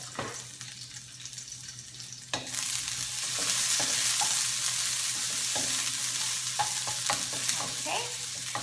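Garlic roasting in about a tablespoon of grapeseed oil in an Amway iCook pan for soft tofu stew: a loud, steady sizzle bursts in after a quiet start and crackles on continuously, up close.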